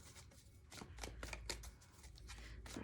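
Tarot cards riffled and shuffled at close range, a run of quick papery flutters and soft slaps in uneven bursts, with no talk.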